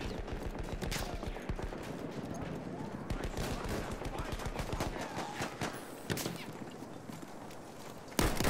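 Rapid automatic gunfire in the Battlefield 1 shooter game, dense bursts of shots rattling almost continuously with brief gaps and a sharp loud shot at the end, no speech heard.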